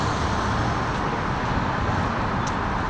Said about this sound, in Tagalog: Pasensya na kayo sa ingay ng mga sasakyan.